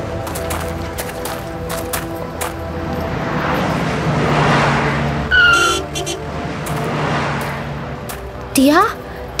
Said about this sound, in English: That car almost hit that pedestrian crossing the road.